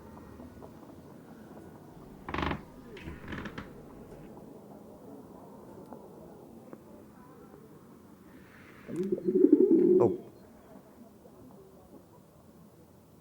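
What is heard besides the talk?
pigeon cooing in Anne Frank House VR experience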